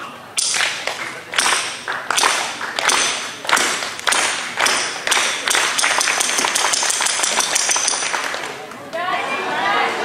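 A festival audience claps in rhythm with a performer's music, producing a steady series of loud, sharp collective claps that start, pause and resume over a few seconds, with some voices mixed in.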